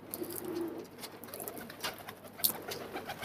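Pet pigeons coo faintly in short, low rolls near the start, followed by scattered soft chirps and rustling in a quiet setting.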